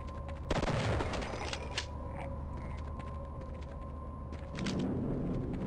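A shotgun fires in the video game Half-Life, one heavy blast followed by a sustained rumble and a second burst of noise near the end, with no talking.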